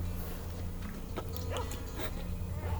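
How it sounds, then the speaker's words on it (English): Dogs in the video game Stalker: Shadow of Chernobyl, several short yelps and whines at mid distance over a steady low game hum, with no talk. "I hear dogs again."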